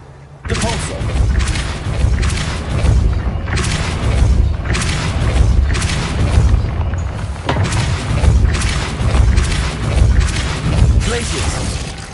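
A repeated Depulso force-push spell in Hogwarts Legacy, heard as a series of loud booming thumps with crashing bursts, coming roughly every one to two seconds in a steady rhythm, close and punchy.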